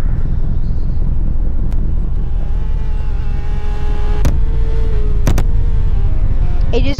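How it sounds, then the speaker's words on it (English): Ford GT crashing somewhere in the background of a Roblox driving roleplay game, a steady engine-like rumble with a few sharp impact clicks and a final thud, no talking. "The Ford GT crashing in the background right now"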